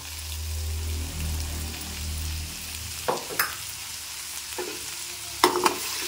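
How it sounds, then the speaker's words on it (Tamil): Ground spice powder is stirred into an Andhra-style brinjal curry in a pan, a low bubbling sizzle followed by a few scraping spoon strokes and clinks close by. "ஒரு தடவை நல்லா இப்படி கிண்டி விட்டுக்கலாம்."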